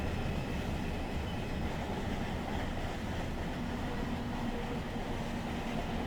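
Freight train rolling along in the Run 8 train simulator, a steady low rumble of wheels and cars with a faint squeal partway through, continuous and moderately distant, with no speech.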